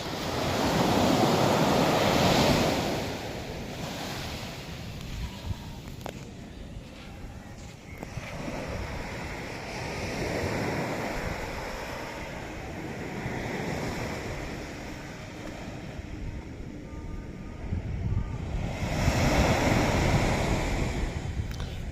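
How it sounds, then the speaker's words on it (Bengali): Sea waves roll and crash on the shore at Kollam port beach in Kerala, a broad roaring wash that swells loudly at the start and end, mixed with wind buffeting the microphone and no voices. "যেমন ঢেউ তার তেমনই আওয়াজ"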